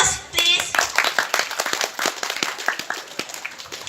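Audience applause at a school English debate final, breaking out after the first affirmative speaker finishes: a burst of hand claps, close and fairly loud, with a voice briefly speaking over the start.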